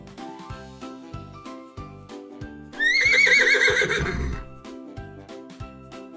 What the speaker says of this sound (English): What sound does the horse make?